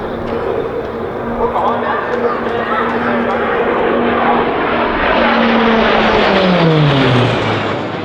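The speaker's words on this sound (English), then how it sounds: "From here, by delaying the pull-up of each aircraft, it positions each aircraft into a perfect formation positioning." Pilatus PC-9A propeller aircraft of the RAAF Roulettes flying a formation display at RAAF Base Point Cook, a loud sustained propeller drone with a pitch that slides lower as the planes pass, under a talking commentator.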